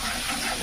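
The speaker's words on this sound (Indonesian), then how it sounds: "Langsung saja bumbunya panaskan minyak dan bumbunya ditumis ya guys ya." Spice paste frying in hot oil for a papaya vegetable dish gives a steady, close, hissing sizzle that holds evenly for a moment with no talk over it.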